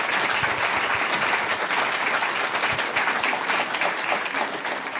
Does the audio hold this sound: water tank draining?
no